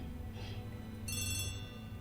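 A telephone rings in the Agatha Christie: The ABC Murders video game, a short electronic trill with a bright, fairly clear tone over a low steady background hum.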